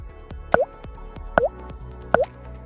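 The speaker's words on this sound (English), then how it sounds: "Simply pour the cleaner into the gas tank." Catalytic converter cleaner is poured into a gas tank, and three distinct drips or plops fall at an even pace, close and clear, with no speech.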